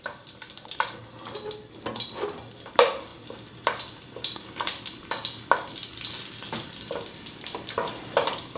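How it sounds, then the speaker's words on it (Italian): Garlic browning in oil in a pan on low flame, crackling in a steady close sizzle with scattered sharp pops and light stirring. "Nel frattempo l'aglio lo facciamo imbiondire senza farlo bruciare."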